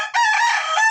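A gamefowl rooster on a farm crows once, a close, loud cock-a-doodle-doo lasting under a second.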